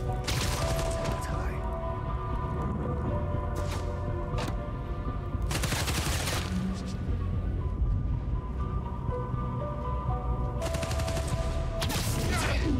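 Bursts of gunfire erupt repeatedly in the video game Spider-Man Miles Morales, sharp volleys recurring every few seconds over a steady game soundscape, with voices talking throughout.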